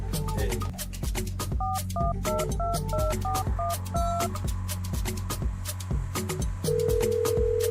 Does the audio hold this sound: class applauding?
no